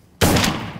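A single loud, close shotgun blast fired at a wild turkey gobbler during a Kentucky spring hunt, a sharp crack followed by a short fading rumble.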